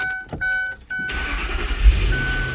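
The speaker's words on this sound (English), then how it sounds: "we're going to go ahead and start the vehicle." Several short electronic chime beeps sound first, then the engine of a 2003 Ford Thunderbird cranks and catches, settling into a close, steady idle rumble with no voices.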